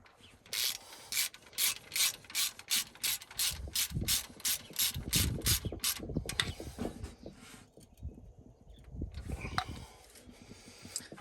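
A hand ratchet tightens spark plugs on a Dodge D300 dump truck, clicking in a quick steady series of close strokes, then giving way to slower scraping and rubbing mechanical sounds.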